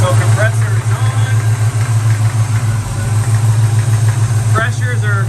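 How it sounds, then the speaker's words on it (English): A running air conditioning compressor hums steadily beside an idling engine, giving a loud, close, constant low drone with a faint cyclic pulse and no break. "All right, so compressor is on."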